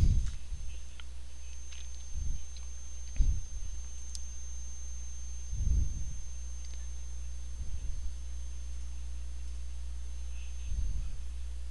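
Computer mouse clicking the run button in circuit simulation software, sounding as about six sparse, soft clicks spaced irregularly over a low steady hum, close and quiet with no talk.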